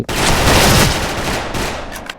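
A loud, close burst of rapid AK74 gunfire in a video game fills the clip, then fades into a couple of sharp, isolated shots at the end.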